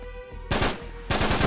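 Two bursts of automatic gunfire from an M9 in Uncharted 3, each a rapid rattle of close, loud shots after a quieter game ambience with a steady tone.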